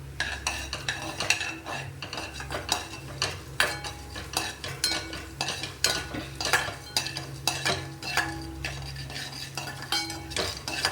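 A spoon stirs and scrapes urad dal frying in popped mustard seed tempering in a pan, rapid repeated metallic clinks over a soft sizzle, close and busy with no voices.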